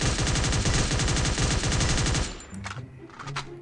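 Rapid automatic fire from a G36 rifle in a video game, a dense, loud burst of evenly spaced shots lasting about two seconds, followed by a few scattered clicks and mechanical handling sounds.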